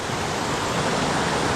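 Wild Southern California mountain stream rushing over rocks, a steady broad hiss of flowing water, close and continuous with no talk.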